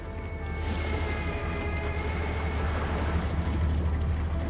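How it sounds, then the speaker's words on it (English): Ocean waves wash in a city-building game, a constant broad surf hiss that rises after a quiet start and holds steady, with faint sustained musical tones layered on top. "The sound of the waves and the guitar is relaxing."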